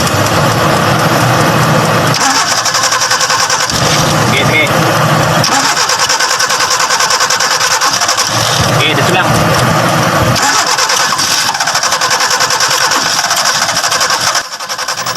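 A Kia Pride engine with a freshly overhauled carburetor cranks and catches, loud and close, repeatedly revving and dipping in bursts while someone talks over it.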